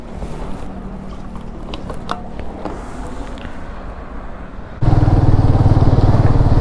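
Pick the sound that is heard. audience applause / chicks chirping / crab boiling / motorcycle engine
motorcycle engine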